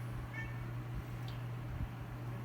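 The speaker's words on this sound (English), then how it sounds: "that cry you hear in the background is my cat. He's crying for attention" A house cat cries for attention somewhere in a room, a couple of faint drawn-out meows under a steady low electrical hum, with no talking.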